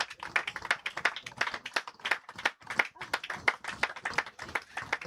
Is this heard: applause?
yes